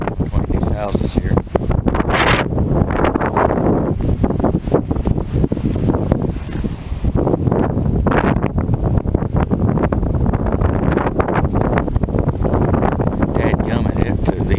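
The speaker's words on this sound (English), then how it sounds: "I had one hell of a wind between these houses here" Strong Hurricane Irma wind in Polk County, Florida, roaring and gusting between houses, loud and buffeting the microphone throughout, with someone talking over it.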